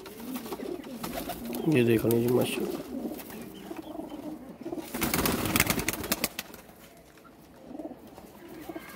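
A female teddy pigeon coos in low, throaty bursts close by, with someone speaking over and between the calls.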